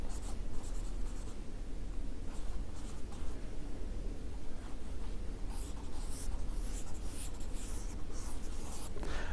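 Chalk scratches and taps steadily on a classroom board as a teacher writes, a continuous dry scraping texture with short strokes and pauses, close and moderately quiet.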